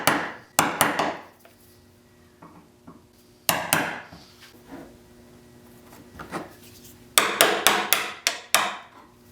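Chisel strikes on a wooden router circle-cutting jig come in sharp bursts, a few single hits then rapid clusters of taps, close and clear with a faint hum between.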